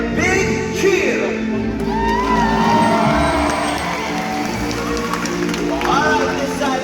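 Stadium crowd at a SeaWorld Orlando orca show cheering and whooping for a jump, a loud sustained roar with shouts and a voice over a speaker system.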